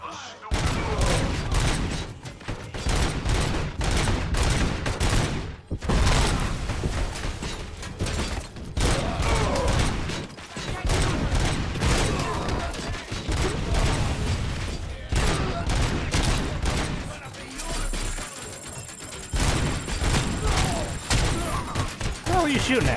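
Dense gunfire from the video game RoboCop: Rogue City fills the stretch, with loud rapid bursts, heavy thuds and mechanical clatter continuing almost without pause, and voices under the shooting.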